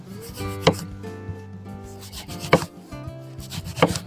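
A knife slices through a lemon on a board for a silver carp steak marinade, with three crisp, separate cuts spaced a couple of seconds apart over steady background music and no talking.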